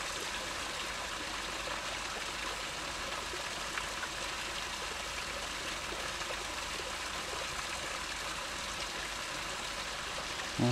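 A stream of water flows into a river at its mouth, a steady, moderately loud rushing and trickling babble that continues unbroken throughout.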